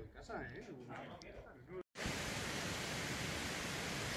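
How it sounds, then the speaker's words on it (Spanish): A mountain stream flowing out near Puerto de Canencia rushes with a steady, broadband wash of water that starts abruptly after a brief pause, preceded by a few seconds of softer outdoor sound. "Salida del arroyo"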